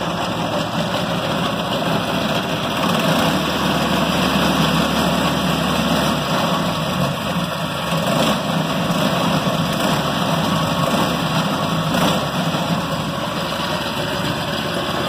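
A small cart engine idles steadily after a cold start, with a low, even rumble and a constant mechanical hum, holding the same pace throughout.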